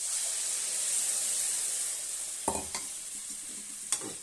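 Tomato paste and spice powders fry in a pan for tomato rice, a soft constant sizzle broken by a few sharp clanks and scrapes of a stirring spoon.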